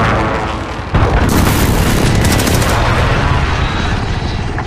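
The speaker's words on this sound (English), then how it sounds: "Allied cruise missile away." A loud, heavy blast from a cruise missile strike in Call of Duty Modern Warfare, beginning with a sudden boom about a second in and then holding as a dense, sustained roar with crackling debris beneath it.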